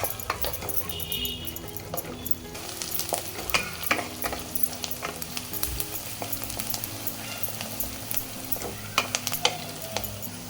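Chopped onions frying in hot oil in a pan for a spiced tempering for a cluster bean curry, a steady close sizzle with a spoon stirring and clinking against the pan now and then.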